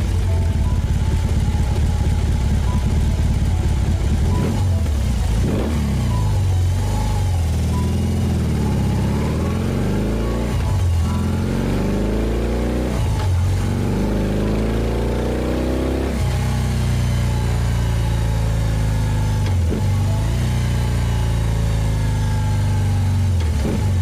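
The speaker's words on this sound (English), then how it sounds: "Don't you want to hear about the engine sound of the bike? The pure engine sound of the fantastic beast?" BMW R18 cruiser motorcycle with its big boxer engine running loud and close, a steady low rumble broken by several rising revs and throttle blips, with no talking over it.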